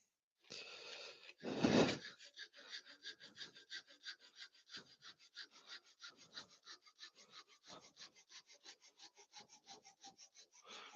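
Wood being cut on a lathe in a workshop, a rough rasping scrape that sets in with a loud burst, then continues as a steady fast rhythm of rubbing strokes, close but fairly quiet.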